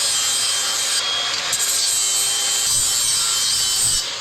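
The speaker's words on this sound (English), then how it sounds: "Each one of these has a burr on it. So let's go ahead and get these cleaned up" Abrasive deburring of freshly cut steel pieces for a welding table, a continuous loud rasping grind with a few small bumps in intensity, no voices.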